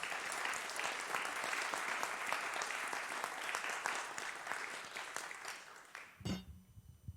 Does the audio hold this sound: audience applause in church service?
yes